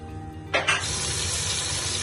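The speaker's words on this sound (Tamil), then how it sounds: "2 கப்பு தண்ணி ஊற்றிக்கலாம்." Water pours into a cooking pot while making ghee rice, opening with a brief splash and then a steady, full gushing stream that continues alone without talk.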